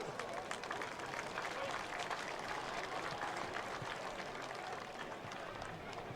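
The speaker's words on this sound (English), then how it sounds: "Please give them a round of applause." Crowd applauding the teams at an under-17.5 Riverina Football League grand final, a continuous spread of clapping heard from a distance, fairly faint and steady throughout.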